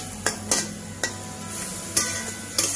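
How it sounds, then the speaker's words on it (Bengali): Mashed banana bharta mixture frying in oil in a pan, with a soft continuous sizzle broken by about six sharp spatula scrapes and clinks against the pan at irregular intervals. "তো এটা আমি একটু 1 মিনিট ধরে একটু ভাজা ভাজা করে নিই"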